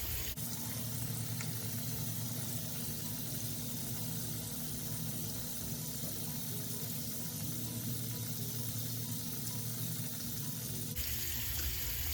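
Water runs steadily from a bathroom tap into a sink while someone wets and rinses their face. The close, continuous rushing changes tone slightly near the end, with no speech.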